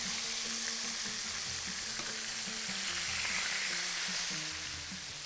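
Fish fries loudly and steadily in a pan, a dense continuous sizzle with occasional faint knocks of cooking, while onions cook alongside for a Bahraini dish. No voices are heard.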